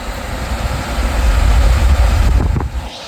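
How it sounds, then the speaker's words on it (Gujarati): Large industrial fan salvaged from the Alang shipbreaking yard, switched on outdoors and blowing hard: a loud, low rushing roar that builds and holds steady, with wind buffeting the microphone. "આ અલંગનો પંખો છે."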